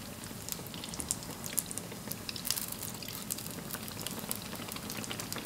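Brown sugar dough cakes fry in hot oil with a steady, close sizzle full of fine crackles and pops, continuous and moderately quiet without speech.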